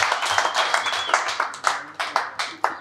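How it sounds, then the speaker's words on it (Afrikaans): A small church gathering claps for diploma graduates, a thin round of hand claps in an uneven, fairly steady rhythm with individual claps clearly audible up close. "Kom ons gee vir hulle 'n hande klap."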